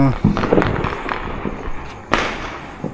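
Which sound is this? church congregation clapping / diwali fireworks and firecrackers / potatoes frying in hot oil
diwali fireworks and firecrackers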